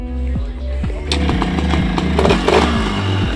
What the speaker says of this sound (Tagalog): pwede na po nating testingin itong ating sasakyan kung nagbago po ang kanyang